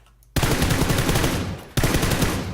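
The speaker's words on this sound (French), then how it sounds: "je vais lui mettre une balle" Gunfire in an online shooter match, two sustained bursts of rapid, loud shots, the second starting after a brief break, with no talk over them.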